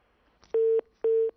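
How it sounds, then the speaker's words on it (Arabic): A telephone busy tone after a call-in disconnects: two steady, loud beeps of equal length with a short gap between them, heard alone without talk. "التليفون فصل"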